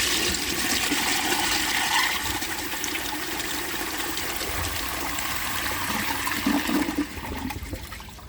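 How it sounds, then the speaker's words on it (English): A 1934 Bowers Pottery toilet flushes with a loud, steady rushing gush of water that runs for several seconds and then eases into a trickle. "I'm going to give it another flush to get the rest of the dirt out"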